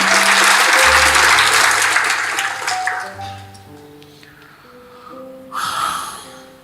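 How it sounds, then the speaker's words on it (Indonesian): A church congregation claps hands in praise, loud at first with organ or keyboard chords underneath, then fading into sustained music with a few scattered claps. "Kita tepuk tangan, puji Tuhan saudaraku"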